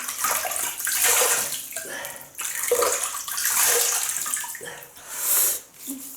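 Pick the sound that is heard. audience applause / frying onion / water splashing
water splashing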